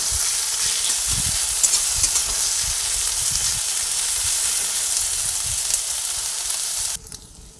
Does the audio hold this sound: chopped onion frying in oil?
yes